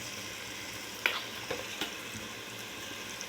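Biryani masala fries in a pan over medium flame, a steady broad sizzle with a few soft scrapes and clinks of stirring, close and alone with no voices.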